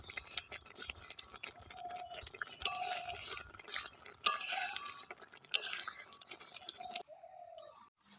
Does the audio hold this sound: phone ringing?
no